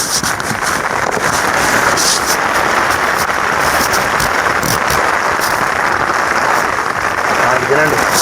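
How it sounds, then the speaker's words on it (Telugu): Heavy rain pours steadily at a night campsite, a dense, loud hiss of drops drumming on surfaces that holds constant throughout with no break. "ఒకసారి వినండి వర్షం సౌండ్"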